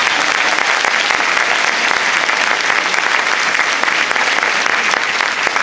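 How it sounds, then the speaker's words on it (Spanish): A crowd at a charismatic prayer gathering applauds loudly and steadily, a dense wash of clapping that holds for several seconds without talk. "Denle un aplauso al Señor."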